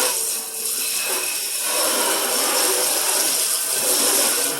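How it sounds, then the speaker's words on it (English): Kitchen sink being scrubbed with soap, a steady, close, broadband scouring hiss that runs without pause and grows slightly louder partway through, with no voices. "Give it a good cleaning and scrubbing."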